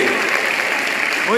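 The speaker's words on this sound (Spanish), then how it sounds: "Un aplauso." Audience applause at a Bible study talk, a brief dense wash of clapping lasting just over a second at steady loudness.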